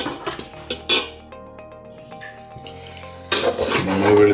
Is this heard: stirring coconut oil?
yes